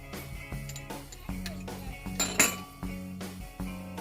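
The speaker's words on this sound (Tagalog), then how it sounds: "let's mix it together guys to make our delicious dipping sauce" Garlic and chili dipping sauce being stirred with a utensil in a bowl, giving repeated light clinks and scrapes at a steady rhythm, close and fairly faint.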